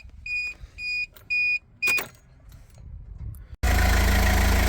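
A few short electronic beeps from a Mazda Bongo van, then a starter cranks briefly and the engine, which has issues, catches and settles into a loud, steady running rumble.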